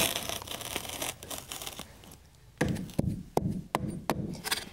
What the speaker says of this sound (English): sure that you're cutting this completely straight so that you don't cut your carpet too short